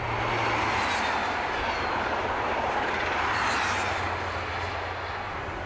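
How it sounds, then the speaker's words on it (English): A Dr. Yellow track measurement train rumbles past with a steady, broad roar of wheels and motors, fairly close and continuous, with a low hum underneath. "This is the new measurement train, or Dr. Yellow as it's known in the business"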